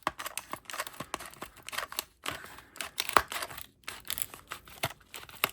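Scissors cut open the plastic packaging of a Cargo Maxx laminated padlock, giving repeated close snips mixed with crinkling and tearing plastic in uneven bursts.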